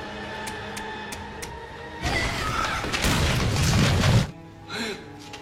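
A bomb goes off in a drama scene: a sudden, loud blast that roars for about two seconds amid crashing debris, then cuts off, leaving a short burst of smaller sounds over a background music bed.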